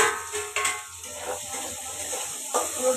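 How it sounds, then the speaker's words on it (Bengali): Chopped onion sizzles in hot oil in a home kitchen pan after garlic has been fried, a soft steady crackle and hiss with a few louder spits and stirring scrapes, close by and without talk. "পেঁয়াজটা ভেজে নিই, একটা মশলা করবো। এই দেখো পেঁয়াজটা ভাজছি"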